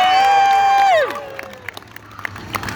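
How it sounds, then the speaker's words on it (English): Street crowd at an Ottawa busker festival cheering and clapping for a checkerboard-costumed busker, a rising whoop at the start trailing off into scattered applause and claps. "I get applause for putting my clothes on."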